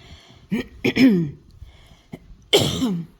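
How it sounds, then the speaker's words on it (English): Several harsh coughs close to the listener: a quick pair, then a brief pause and one more cough, with quiet moments between. "Pardon my cough."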